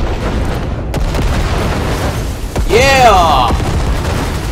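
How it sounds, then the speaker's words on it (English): Grenades explode in the video game Cyberpunk 2077 with loud booming blasts and a rumbling roll. Someone speaks briefly and a rising whine follows. "Throw them grenades."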